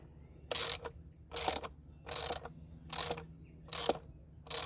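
A hand-turned screw goes into the plastic mounting bracket of a 1/2 inch by 84 ft Vevor hose reel. It gives six evenly spaced bursts of close, crisp ratcheting clicks, with short quiet gaps between them.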